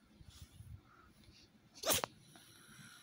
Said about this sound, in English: Yes, sneeze.